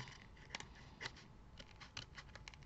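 Scissors snip paper while trimming a folded triangular greeting card to size, giving a few short, quiet, crisp cuts spread out over a soft background hiss.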